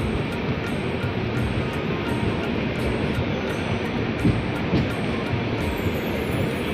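A steady, loud rumble of a moving train at Sangameshwar Road crossing fills the scene, with rhythmic clacks of wheels over rail joints repeating throughout.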